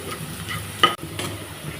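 Beef kala bhuna, a dark Bangladeshi-style beef curry, sizzles and is stirred in a pan, a soft steady frying hiss with a few louder scrapes of the spoon.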